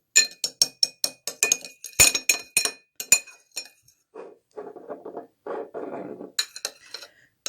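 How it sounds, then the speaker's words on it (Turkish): A metal spoon stirs a homemade pink face mask mixture in a small glass bowl, ringing with a quick run of bright clinks and taps, then softer scraping swirls before a final burst of clinking. "Şimdi bu karışımı Güzelce karıştırıyorum."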